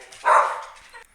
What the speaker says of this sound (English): And there's the barking.